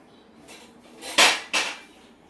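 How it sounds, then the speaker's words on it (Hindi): Roughly sliced onion dropped into a pan of hot coconut oil, a couple of sharp clattering hits and a brief sizzle burst, close and fairly loud. "ये मैंने पैन में 2 टेबलस्पून नारियल का तेल गरम कर लिया है। उसमें मैं एक रफली स्लाइस किया हुआ प्याज डालूँगी।"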